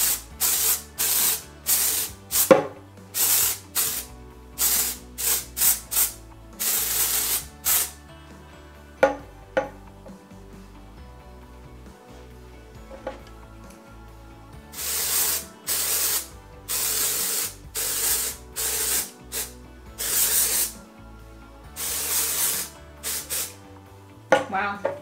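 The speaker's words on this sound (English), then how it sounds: "And then I spray." Loud, repeated hissing bursts of a dry shampoo aerosol spray, some short and some sustained, coming in quick rhythmic clusters with brief pauses between.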